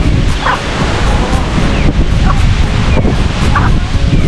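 Powerful typhoon wind from Typhoon Kristine blasts loudly and continuously, buffeting the microphone with a dense, surging roar throughout.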